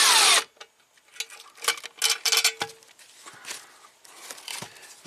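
Metallic clinks and ratcheting tool sounds while unbolting the transfer case shift motor on a 2002 Toyota 4Runner stuck in 4x4, a loud clatter first, then irregular close taps and scrapes of wrench on bolt.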